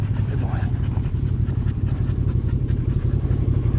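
A dog panting on an overnight bikepacking trip in the Utah desert: rapid, rhythmic breathing close by over a rumbling outdoor background, with a person talking at the same time.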